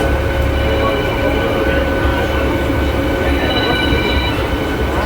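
A local train running from Sealdah to Howrah rumbles steadily and loudly throughout, with a dense low roar and faint rail squeals on top. No one speaks.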